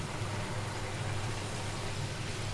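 Egg curry gravy in a pan at a steady boil as eggs go in, a continuous soft, even bubbling hiss with no talking.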